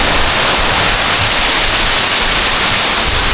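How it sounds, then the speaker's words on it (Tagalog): Rushing river water roaring steadily and loud, a dense broadband wash filling the whole clip with no break, like a waterfall or fast rapids close by. "yung kalampag niya sa ilog, ragasan ng ilog, yung tubig"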